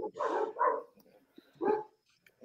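A dog barks three times, fairly close and moderately loud, with short pauses between the barks during a night livestream.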